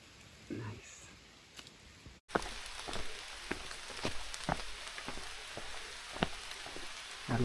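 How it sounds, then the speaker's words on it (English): Rain patters steadily on a forest trail during a rainy season hike on Gyeryongsan, with scattered nearby drops and taps over a constant soft hiss after a brief quieter opening. "Well, rainy season is officially here and living up to its name."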